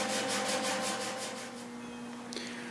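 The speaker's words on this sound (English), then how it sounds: "Matt continuing to block sand on those quarter panel extensions over there" Steady abrasive rubbing from block sanding the quarter panel extensions of a 1965 Ford Mustang under restoration, a rhythmic back-and-forth scrape repeating at a quick, even pace at moderate distance, with music playing faintly in the shop and a brief clatter near the end.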